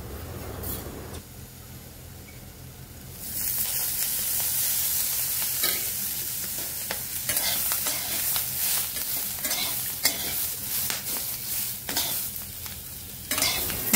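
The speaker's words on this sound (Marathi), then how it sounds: "आपण शेंग चांगले अजून परतून घ्यायचे तेलावरती" Green rajma bean pods crackle and sizzle in oil in a kadai, first quietly and then louder as frying picks up, with steady scraping strokes from a stirring spoon close by and no talking.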